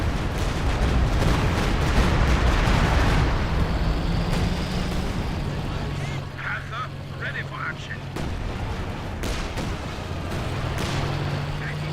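Artillery barrage in Company of Heroes 2, with continuous rumbling booms and blasts rolling on throughout while a commentator keeps talking over them.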